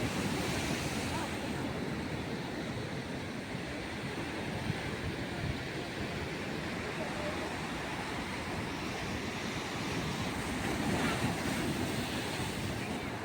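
Steady rushing of sea waves mixed with heavy wind noise at Worli Sea Face, Mumbai, in the evening, a constant broad roar throughout.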